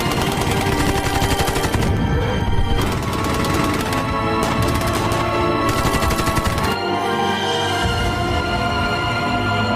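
Heavy gunfire in a Korean war film battle scene, dense bursts of rapid machine-gun and rifle fire rattling almost continuously, loud and close, with brief gaps between volleys.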